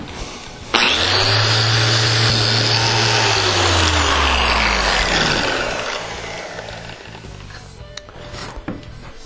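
A steel coupling on a log hand rail being sanded with 60 grit sandpaper on a power sander: a loud, close whirring grind that runs steadily for several seconds, then winds down and fades, with no talking.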